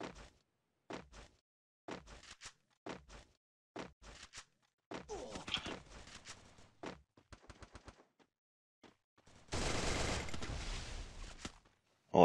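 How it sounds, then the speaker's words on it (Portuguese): Sharp bursts of video game gunfire in short, separated volleys, then a longer sustained stretch of rapid shooting, heard alone without talking. "os caras estão trocando tiro aqui na frente"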